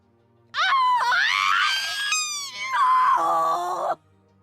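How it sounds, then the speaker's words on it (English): An unearthly being inside an old woman's body lets out a scream: a loud, wavering, shrieking wail that lasts about three and a half seconds, rising and dipping in pitch, with no other sound around it. "The being inside Gran's body emits an unearthly scream and disappears"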